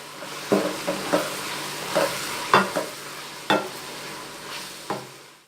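Onions being sautéed in a pan while cooking okra masala, with a soft steady sizzle punctuated by a series of separate spatula scrapes and stirring knocks, fairly quiet and without talk.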